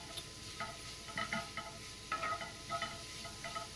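A spoon stirs ginger garlic paste in a hot pan, giving soft scraping taps in an uneven rhythm over a low, steady sizzle, close and quiet, with no talking.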